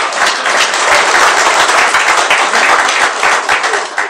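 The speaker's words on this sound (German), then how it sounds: "Applaus" Loud, dense applause from a cabaret theatre audience in Dresden, many hands clapping steadily and evenly throughout, close and filling the room with no voices on top.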